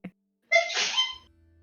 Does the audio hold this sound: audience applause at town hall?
no